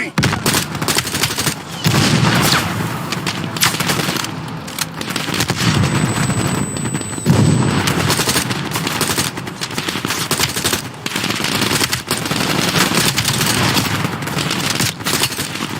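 Anti-aircraft guns fire in Call of Duty: Black Ops Cold War, sustained rapid bursts of loud gunfire with heavy booming layers filling the whole stretch of battle noise.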